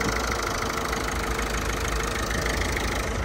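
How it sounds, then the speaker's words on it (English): A 2014 Peugeot 208 1.4 HDi diesel engine idles in a steady, even drone, close and continuous with no voices over it. "No abnormal noises coming from the engine or gearbox."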